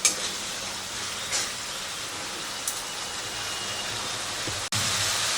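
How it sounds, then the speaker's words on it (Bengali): Spice masala with yogurt sautés in a pan over low flame, a steady hissing sizzle with a few faint clinks of stirring along the way. "তো দইটা দেওয়ার পরে আমি মিনিট খানেকের মতো মশলাটাকে কষিয়ে নিয়েছি।"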